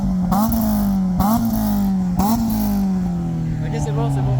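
Three sharp throttle blips from a Renault Clio RS 3 engine, each rising and falling quickly, then settling into a steady idle drone, loud and close, with someone talking over it.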